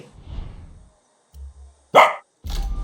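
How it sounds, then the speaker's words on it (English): A dog in the video game Far Cry 6 gives two sharp, loud barks in quick succession, following a stretch of low rumbling game ambience. "I don't speak bark, amigo."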